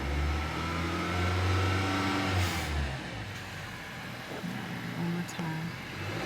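A car engine revs up loudly for a few seconds, then drops back to a rough idle with a couple of smaller blips, all close to the microphone.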